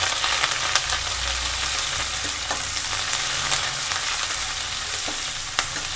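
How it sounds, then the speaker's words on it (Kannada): Sliced onion, curry leaves and two green chillies frying in oil, a continuous close sizzle with occasional light taps and scrapes of a stirring spoon, no voices. "ಸ್ವಲ್ಪ ಚೆನ್ನಾಗಿ ಫ್ರೈ ಆಗಬೇಕು"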